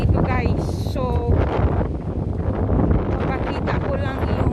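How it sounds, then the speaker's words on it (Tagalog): Strong wind sweeps over the beach dunes at Maspalomas, Gran Canaria, rumbling and buffeting the microphone steadily while a voice talks over it. "Mahangin talaga dito guys."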